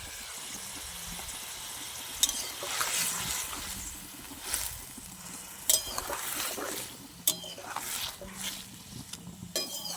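Fried fish is stirred into a taro stem curry in a pan, with intermittent spoon scrapes and sharp metallic clanks over a faint simmer and low background noise.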